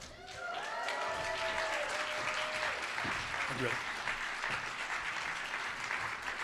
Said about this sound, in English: So please give a warm round of applause to Hakim Anwar.